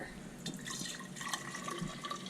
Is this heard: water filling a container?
yes